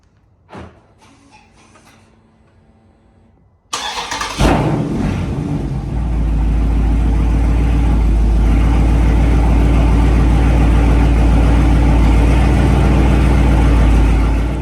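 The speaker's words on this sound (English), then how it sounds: "let me go ahead and crank the car up" A Dodge Charger Scat Pack Widebody with active exhaust cranks to life after a few quiet clicks, a loud starter catch bursting into a deep, steady idle rumble that holds close and strong to the end.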